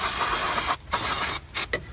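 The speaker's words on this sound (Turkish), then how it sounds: "Altı sprey vurulur mu?" Brake cleaner is sprayed onto the distributor of a car that stalled after driving through a puddle. Close, loud aerosol hissing comes in one long burst, a shorter burst, then two quick spurts with brief silences between.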